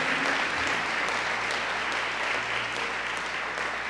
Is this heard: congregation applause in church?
yes